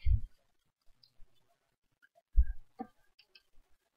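A computer mouse clicks sharply a few times, quiet and near against a silent Windows desktop background, with faint ticking in between.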